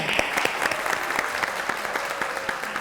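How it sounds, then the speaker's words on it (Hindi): Studio audience applause on a television talk show, an even, continuous patter of many hands clapping at moderate volume throughout. "तालियां हो जाएं।"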